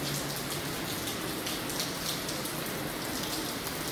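Steady rain falls and patters on surfaces close by, a dense continuous hiss of drops with no pauses and no voices.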